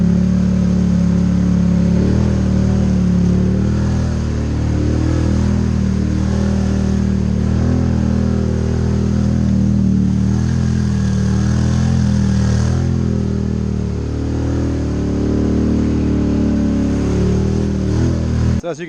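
A Can-Am Highlifter 850 ATV on aggressive 34-inch Motos knobby tires churns through mud, its engine droning loudly and steadily at medium throttle throughout.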